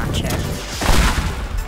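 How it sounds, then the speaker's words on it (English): A rocket launcher in the video game Teardown fires and blasts, producing a booming crackle of explosion and debris that swells near the end, with a voice talking over it. "Rocket launcher."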